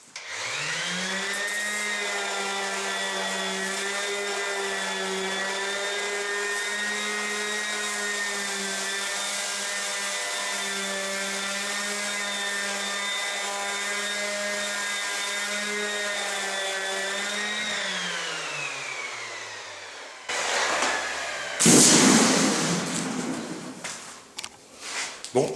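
Ryobi sander running after a bearing repair, a loud steady motor whine held for about eighteen seconds before spinning down, followed by clatter and handling noise.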